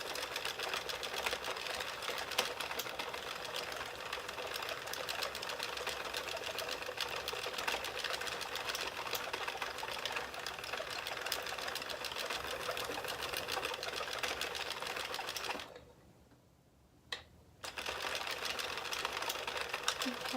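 An Addie knitting machine cranked by its wheel gives a steady, close mechanical clatter of rapid ticking needles, running continuously apart from a brief pause near the end.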